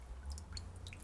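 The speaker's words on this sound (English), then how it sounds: "Now we'll just let it drip dry a bit." Water drips from a freshly formed sheet of handmade paper still in its mould, giving faint, quick, irregular patters over a low steady hum.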